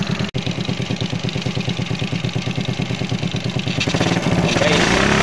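A Suzuki Smash 110 motorcycle engine with a faulty carburetor runs close up with an uneven, stuttering misfire pulse, a sharp click near the start, then revs up louder toward the end.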